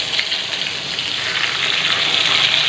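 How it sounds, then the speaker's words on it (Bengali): Vegetables frying in a pan at home, a steady bright hiss and crackle of hot oil that holds evenly and grows slightly louder, close by, with no talking. "তো এটা ভাজা হোক"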